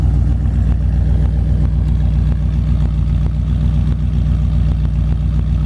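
A 1938 Buick Special resto rod with a dual-carb 401 Nailhead V8 engine runs steadily at idle close by, a loud continuous low rumble with a rapid pulsing beat and no talk over it.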